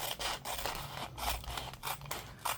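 Scissors cut a paper strip off the side of a junk journal pocket, a series of close, rhythmic snipping and rasping strokes with no voices.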